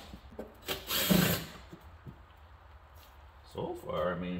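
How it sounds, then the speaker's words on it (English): A small DeWalt cordless driver with a 1/4-inch socket adapter runs on small bolts near a Dodge Ram fender, giving two short whirring bursts close by while someone talks. "for the smaller bolts and trim work and stuff, I like using my little DeWalt, the little driver thing"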